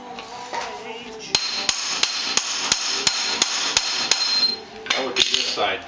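Steel hammer blows on the crossmember of an MG car, about a dozen sharp metallic strikes in a fast, steady rhythm, close and loud, followed by a few scattered knocks.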